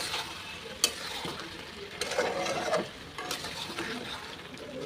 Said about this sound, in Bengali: এই আলুগুলো দিয়ে আবার ভালো করে কষাই নিই